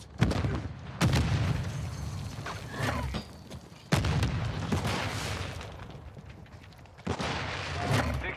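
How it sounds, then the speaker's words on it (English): Grenade blasts from Semtex and stun grenades in Call of Duty MWII, Modern Warfare II (2022), with several heavy booming bursts at irregular intervals over continuous battle noise, loud and close. "Throwing Semtex! Stun grenade out!"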